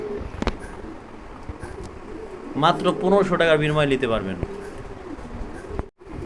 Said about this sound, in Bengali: এখানে রয়েছে চমৎকার চমৎকার একটা কোয়ালিটির কবুতর